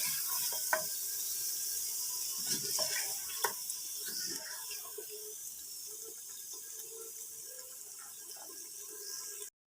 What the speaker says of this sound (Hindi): दही को 2 से 3 मिनट फ्राई कर लेते हैं